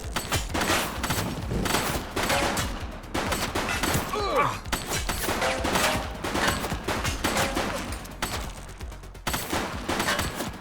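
Gunfire in the police video game The Precinct: rapid volleys of loud shots crackle in dense bursts over nearly ten seconds of busy street-battle noise.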